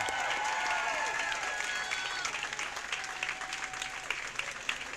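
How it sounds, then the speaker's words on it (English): Applause for graduating seniors at a high school commencement ceremony, a dense, steady wash of clapping from a large crowd that fills the whole stretch, with some faint voices and whistles mixed in. "Let's give him a round of applause"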